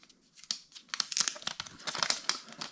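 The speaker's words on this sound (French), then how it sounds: "Et donc, on va enlever le papier." Protective paper is peeled and pulled off a new Xiaomi 14 Ultra phone, giving close, irregular bursts of crinkling and tearing with no voices.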